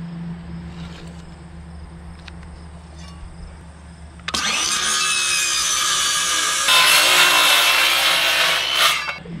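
Power saw trimming the end of a large wooden beam board on a post and beam garage build, starting abruptly as a loud, steady rough cutting roar that intensifies midway and then cuts off.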